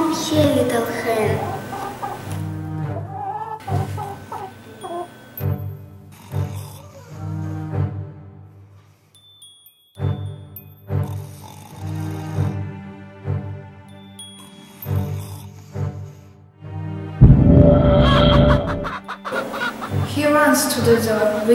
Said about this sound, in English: Come here, little hen.